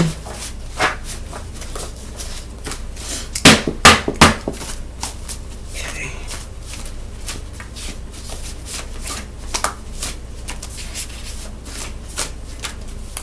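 Tarot cards are shuffled repeatedly up close, with riffling bursts and soft sliding rubs, a few sharper snaps near the middle.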